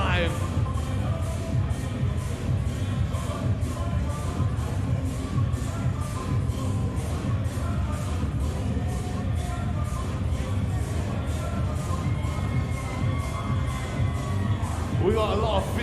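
Crowd at Alexandra Palace during the Mosconi Cup pool event, a lively mix of cheering and clapping with rhythmic claps, under an announcer's voice urging them on.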